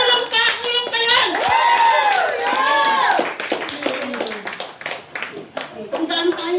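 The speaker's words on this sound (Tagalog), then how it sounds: "Palakpakan po natin ang ating Panginoon." A church congregation at a Sunday service claps together in a lively burst, while a voice calls out loudly over the applause and the clapping thins out toward the end.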